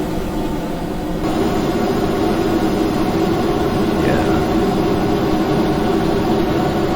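Massed air-breathing jet engines of a super heavy SSTO spaceplane in Kerbal Space Program, five clusters of nine engines each, roar as a steady, loud broadband rumble that swells after the first second and holds constant throughout.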